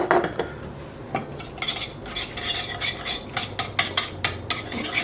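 A spoon stirs brown sugar into a warm mixture in a metal pot, scraping and clinking against the sides in a steady rhythm of repeated strokes, close and moderately loud with no talking.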